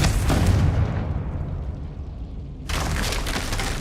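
A Confringo fire spell bursts in Hogwarts Legacy as a loud, roaring explosion with a broad rumbling blast, fading into a quieter low tail, then a second surge of crackling noise near the end.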